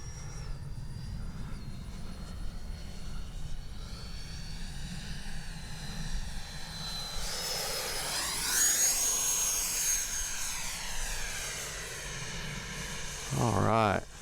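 A radio-controlled JAS-39 jet with a 70mm ducted fan whines as it spools up and flies past, its rising and falling pitch sweeping overhead at moderate distance, while someone talks over it at times.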